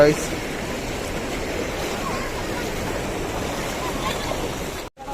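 Floodwater rushing strongly across a road beside flooded paddy fields, a loud continuous broadband roar of flowing water heard close by, steady throughout before cutting out briefly near the end.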